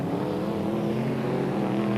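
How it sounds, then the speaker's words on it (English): Brisca F1 stock cars racing past on a Northampton oval, a loud sustained engine drone with steady revving, close by and without pause. "Still waiting for the slower cars to come through."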